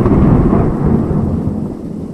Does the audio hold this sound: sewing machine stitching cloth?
no